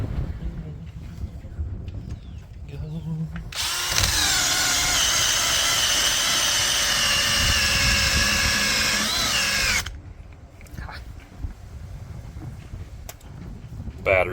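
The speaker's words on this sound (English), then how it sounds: "I'm going to go over it again with the eraser wheel and then probably hit it with the lacquer thinner." A cordless drill spins an eraser wheel against old pinstripe adhesive on a vehicle, a loud, steady high whine lasting about six seconds between quieter handling sounds.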